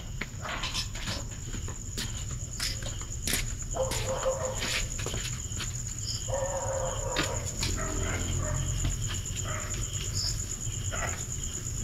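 Dogs bark sharply several times in irregular bursts at close range, over a steady drone of crickets and some shuffling footsteps.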